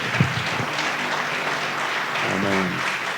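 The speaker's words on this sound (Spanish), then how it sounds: "Le damos un fuerte aplauso al Señor" A church congregation applauds during a Spanish-language sermon, steady dense clapping filling the room, with a brief voice or shout rising over it near the end.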